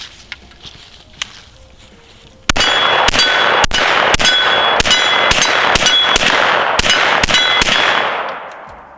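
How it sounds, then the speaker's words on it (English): Rounds fired at a range target from a .300 BLK or 10mm firearm, about a dozen loud, sharp reports in a fairly quick uneven string, each cracking with a metallic ring that decays, after a quiet stretch with faint clicks. "let's just get a couple of rounds on target, see how it feels, see how the perceived recoil is"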